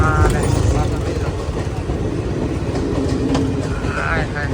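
A passing train at a railway crossing on the way to the Salangpur Holi festival, a loud continuous rumble and rattle of wagons close by, with people talking over it.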